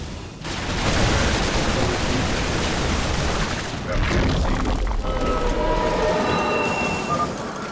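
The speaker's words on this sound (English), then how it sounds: "The subway exit is clear, and the trains can be safely operated." Subway train in the StarCraft II game rumbling along the rails, a loud, continuous roar with heavy low clatter and rolling noise that swells and shifts but never stops.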